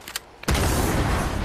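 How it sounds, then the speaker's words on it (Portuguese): A car blowing up in a shooter video game: a loud, sudden broadband explosion that holds at full level with a long, roaring tail, preceded by a couple of faint clicks or shots. "Eita, como explodiu."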